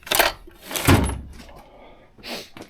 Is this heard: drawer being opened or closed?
yes